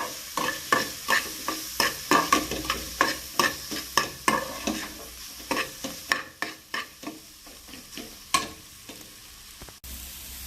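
Rhythmic scraping of a spoon stirring spice powders and pepper in a frying pan for an egg dish, regular strokes over a light background sizzle, close and fairly loud.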